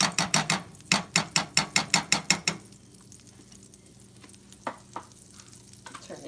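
Kerrygold butter in a pan on the stove, heard as a fast train of about fifteen sharp scraping and stirring strokes in the opening seconds, then a faint low sizzle with a few isolated clinks and no talk.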